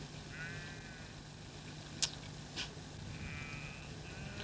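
Sheep in a 1973 Belgian shepherd's flock bleat a few times, faint and somewhat distant, over a low steady background hum.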